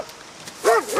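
A dog barks and yips near the close, a short pair of loud, nasal calls rising out of quiet ambient background with faint murmuring before it.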